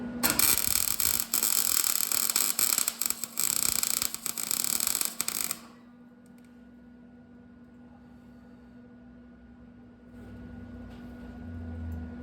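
Welding on thin, rusty metal: a loud, dense crackling buzz that runs steadily for about five seconds, then cuts off abruptly, leaving a low, quiet electrical hum.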